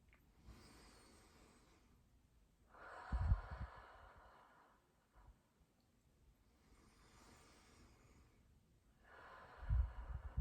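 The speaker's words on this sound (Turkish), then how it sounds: "3 derin nefes almanızı istiyorum sırayla ve benimle birlikte lütfen." Slow, deep meditation breaths repeated in sequence: soft airy inhales and exhales close to the microphone, quiet and unhurried, with faint nasal snorts between them and no talking.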